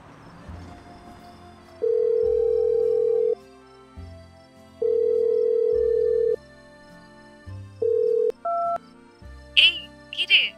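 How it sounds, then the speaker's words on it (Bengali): An electronic telephone rings as a sound effect in a Bengali audio drama: several sustained tone bursts, each starting and stopping sharply, then quick higher beeps and a brief voice at the end. "ফেরবার পথে রিক ফোনে ধরল অন্তরাকে।"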